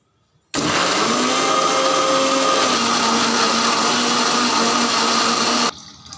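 A mixie blender grinds pumpkin with green chilli, ginger and lemon for juice, one steady, loud whirring run of about five seconds that starts and stops abruptly, with no talking.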